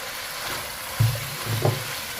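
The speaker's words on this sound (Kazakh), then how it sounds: "Осыны енді қуырып аламыз, етпен бірге." Carrot and onion are frying with meat in a pan, giving a soft steady sizzle with two brief louder stirring or scraping bursts midway.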